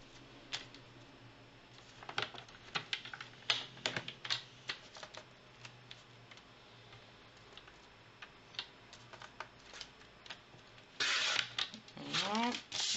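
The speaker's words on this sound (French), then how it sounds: "On prend le massicot" A paper guillotine (massicot) cuts through envelope paper, giving sharp clicks and a brief slicing rasp near the end, over a steady background hiss.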